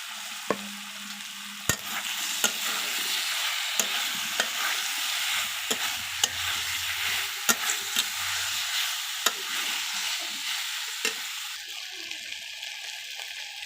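Paneer, potato and pointed gourd are stirred into frying masala in a pan, giving a steady close sizzle broken by regular sharp spatula scrapes and knocks, with no talking.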